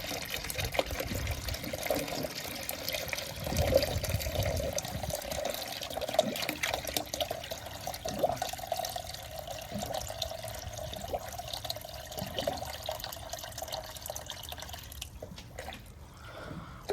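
Antifreeze is poured into the radiator of a Big Block Chevy through a Lyle Tools fill funnel, giving a continuous faint trickle and gurgle with scattered drips and bubbling.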